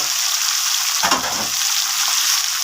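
Chicken and onions sizzle steadily as they brown in a pot, with a brief louder burst of stirring partway through. No voice is heard over the frying.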